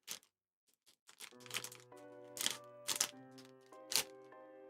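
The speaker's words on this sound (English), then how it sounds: "sorry about all the plastic rustling there" Plastic Warhammer kill team tokens and model parts rustle and clack in a box as a hobbyist handles them: sharp scattered clicks and rattles close up, over faint sustained tones in the background, with no talk.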